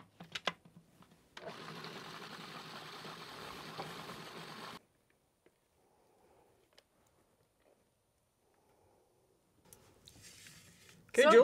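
A food processor blends hummus in a steady, dense whirring burst of about three seconds, then cuts off into near silence, with faint clicks before and a voice at the very end.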